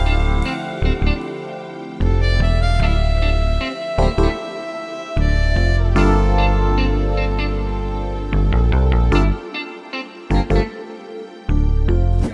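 A vintage-sounding West Coast G-funk beat loop plays loud and dense, with deep bass notes, warm keys and punchy drum hits in a steady repeating groove, with no voices over it.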